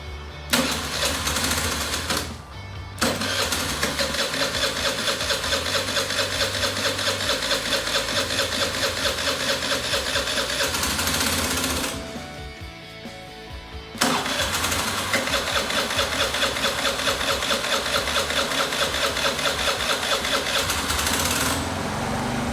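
A Suzuki Address V50 scooter engine, left sitting unused for over a year, runs loud and close at a buzzy warm-up idle, dipping briefly twice before picking back up to a steady drone.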